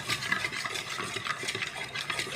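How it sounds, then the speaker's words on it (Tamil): A quiet, close mix of cleaning liquid and shampoo being stirred for slime, with soft repeated swishing and light scraping strokes for a couple of seconds. "இப்போ வந்து இதை வந்து நல்லா மிக்ஸ் பண்ணிக்கலாம்."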